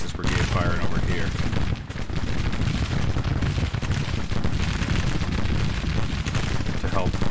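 Dense musket volleys and booming artillery fire fill a Civil War battle in the strategy game Grand Tactician, a loud continuous crackle of gunfire with deep thuds layered underneath.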